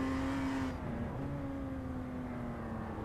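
A BMW M2 race car in the iRacing game holds a steady engine note at Circuito de Navarra, a sustained whine that dips slightly as the upper hiss drops out early on.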